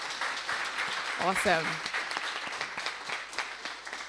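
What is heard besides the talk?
audience applause for the team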